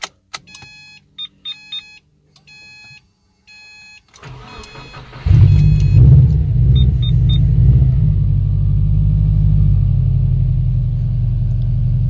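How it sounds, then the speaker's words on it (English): A car's engine starts cold after dashboard chimes and a whir, then holds a loud, steady, close high-RPM idle rumble through the rest. "this is a cold start right now"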